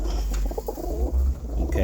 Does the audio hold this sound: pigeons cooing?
yes